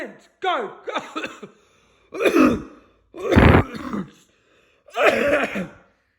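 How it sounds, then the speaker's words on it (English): Harsh coughing bursts from a man at a lively church gathering in Joondalup, several loud, close, rough hacks with throaty vocal noises in between, separated by short pauses. "I had a cough"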